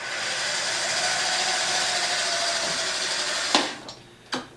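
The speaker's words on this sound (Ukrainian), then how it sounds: "Двигун працює, контролер працює." An electric FADA FLIT II bike motor runs with a steady, close whirring hiss, then cuts off near the end, followed by a couple of sharp clicks.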